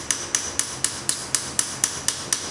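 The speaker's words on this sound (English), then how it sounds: "you're tapping it out from behind on an anvil vise" A hammer tapping a piece of stainless steel trim from behind on an anvil vise, about ten sharp, evenly spaced metallic strikes ringing alone at a steady rhythm.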